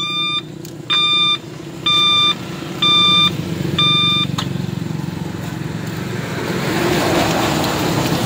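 Reverse alarm on a chariot cart: five evenly spaced electronic beeps sound close and clear over a steady low hum, then stop as the hum continues.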